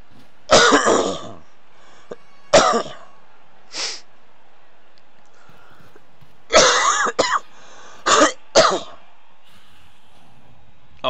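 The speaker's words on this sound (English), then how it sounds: "Sitting here coughing in y'all's ears" A person coughs and clears their throat in several separate bursts, two near the start and a louder cluster later on, close to the microphone with quiet gaps between.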